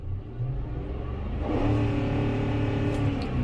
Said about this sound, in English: let's just put the vehicle in neutral real quick, and let's just see what the rev limit is here